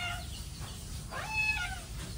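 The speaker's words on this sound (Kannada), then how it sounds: "ಏನು ಮಿಯಾವ್ ಮಾಡೋದು?" A cat meows faintly a couple of times outdoors at a rural home, a short drawn-out call standing out against a steady background of rain and hum.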